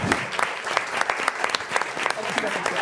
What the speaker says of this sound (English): We'll get some applause here for them